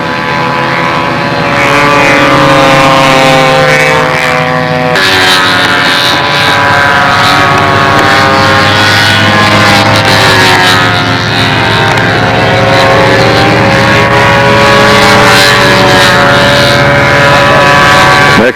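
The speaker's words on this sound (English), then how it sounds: "Great flight, Walt Brownell." Control line scale stunt model airplane engine during a flight at the 1999 Nationals in windy conditions, a loud, sustained high-pitched buzzing drone that shifts in pitch as the plane circles, with occasional announcer speech.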